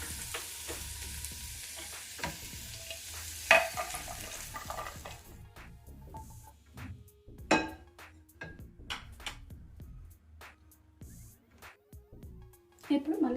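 Vegetables for kadai veg being stirred in a kadai, with frying sizzle and scraping spatula strokes at first, then intermittent clanks and taps while a voice talks over the cooking.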